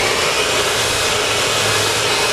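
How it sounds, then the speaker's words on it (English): A blow dryer runs continuously and loud while a round brush styles hair, giving a steady, unbroken rushing whir up close with no talk over it. "By using our round brush and our blow dryer."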